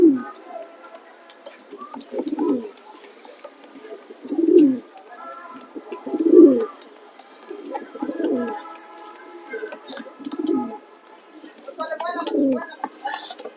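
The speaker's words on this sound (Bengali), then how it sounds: "অনেক ভালো ভালো কবুতর দিয়েছি" Pigeons offered for sale coo in a series of soft, low rolling calls, repeating every couple of seconds at close range with faint background sounds between them.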